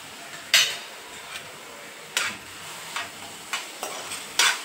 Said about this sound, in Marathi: आता त्यात आपण जो लसूण मिरचीचा ठेचा करून घेतला होता तो टाकून घ्यायचा